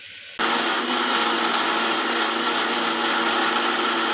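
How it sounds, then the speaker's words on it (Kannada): Mixer grinder grinding a sambar masala of coconut, coriander, tomato, garlic, ginger and chilli, coriander and garam masala powders, starting abruptly after a brief quiet moment and running as a loud, steady, dense whir throughout. "ಇವಾಗ ಇದನ್ನು ರುಬ್ಕೊಂಬರೋಣ"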